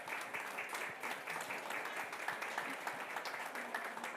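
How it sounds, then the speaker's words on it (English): Audience applause for event sponsors at a Kenosha County community gathering, a steady, fairly faint wash of many hands clapping throughout, with no talk over it. "So a big round of applause for our sponsors."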